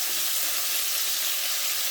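Salted peda fish fries in a pan of hot oil, giving a dense, steady, hissing sizzle up close with no voices over it.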